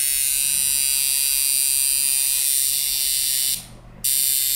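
A coil tattoo machine running at a high setting gives a steady, close electric buzz that cuts out for a split second near the end before resuming.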